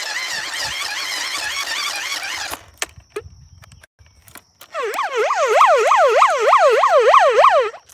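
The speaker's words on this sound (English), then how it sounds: "And I can use the siren like that." A loud electronic siren from a handheld emergency radio wails in rapid rising-and-falling sweeps, stops for a couple of seconds of clicks and handling, then resumes with a deeper, stronger yelp.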